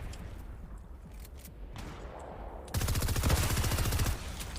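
Fortnite gunfire bursts in after a quieter stretch, a rapid automatic rattle of loud shots sustained for over a second before it stops.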